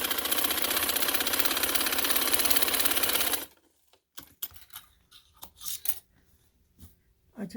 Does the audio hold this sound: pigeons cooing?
no